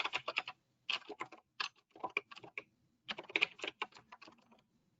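Typing on a computer keyboard while entering a website link, a close, quiet run of quick clicky keystrokes in several bursts separated by short pauses, with no talking.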